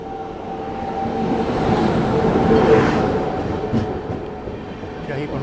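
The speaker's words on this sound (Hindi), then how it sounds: "सामने से कोई ट्रेन आ रही है।" An oncoming train passes at night near Ludhiana Junction railway station, with a broad rumbling roar that swells to a peak midway and then slowly eases off.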